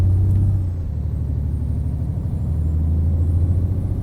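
Heavy Mack R Series truck engine in American Truck Simulator hauling a 17-ton cement load, a steady deep low rumble that drones on without a break and without talk.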